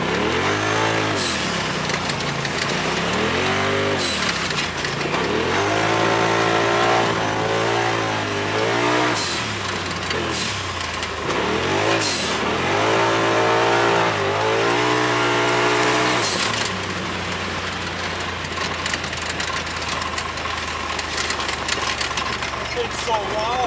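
A Polaris RZR Pro XP side-by-side fitted with an RPM blow-off valve runs laps, its engine loud and close, rising and falling through repeated revs, with sharp valve bursts between surges and voices talking over it.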